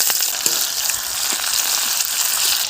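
Onions hit hot oil tempered with black cumin (kalo jeera) in a wok-like kadai, setting off a loud, dense, even sizzle that holds steady throughout.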